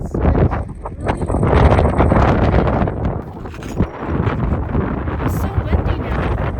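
Strong wind at Hawaii's Big Island volcano national park buffets the microphone with loud, continuous rumbling gusts while people talk over it.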